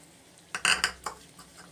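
A spoon clinks and scrapes against a bowl while stirring salt and meat masala into small fish. It makes a few short, close metallic taps.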